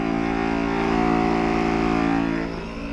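A SPTA cordless pump sprayer running nearly out of liquid gives a loud, steady motor whine with a strong humming tone that dips slightly near the end.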